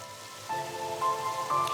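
Steady rain patters on a surface in a wildlife sanctuary, soft and continuous, with a few faint higher tones ringing through.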